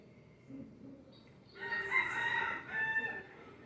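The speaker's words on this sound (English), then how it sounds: "Heard that, rooster?" A rooster crows loudly nearby, one long drawn-out call rising and falling over quiet outdoor background, preceded by faint clucking.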